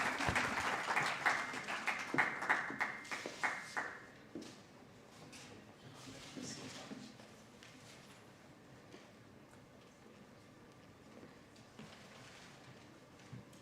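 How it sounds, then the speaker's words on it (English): An audience claps to welcome a speaker at an International Migrants Day debate final in Kenya, a brisk burst of applause lasting about four seconds before fading into quiet room noise with a few faint sounds. "Let's give him a warm round of applause as he comes to speak with us."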